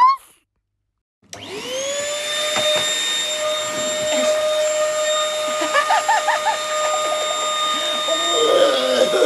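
A vacuum cleaner starts after a brief silence and runs loud and steady with a high whine, sucking over clothing being worn, with shifting scratchy rustles as the nozzle moves across the fabric.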